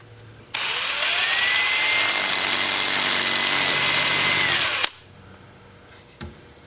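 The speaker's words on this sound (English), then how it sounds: "We'll have the lathe spinning at about 350 RPM." A wood lathe spins at about 350 RPM, turning a piece of cherry plum scrap. A loud, steady high whine starts abruptly, holds for about four seconds, then cuts off into quiet.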